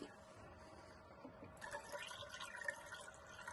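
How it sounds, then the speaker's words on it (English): Water poured into an AC condensate drain line, a faint trickle that turns into a fuller splashing gurgle halfway through as it fills the trap and runs off, quiet and close. "we'll pour water down there and you can see what happens. It just drains down the line"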